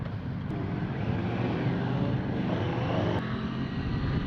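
A sport motorcycle in sport mode pulls away on the Brands Hatch GP circuit during a trackday. The engine roar is loud and sustained, with a change in pitch partway through, and no voices.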